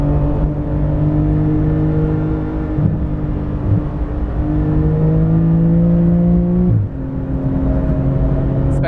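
A 700 HP Porsche 911 GT2 RS race car on a Nordschleife lap, its engine droning steadily at high revs from inside the cabin, with pitch shifts as it changes gear, loud and continuous with no talk.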